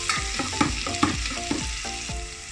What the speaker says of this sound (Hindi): इसको थोड़ा फ्राई करेंगे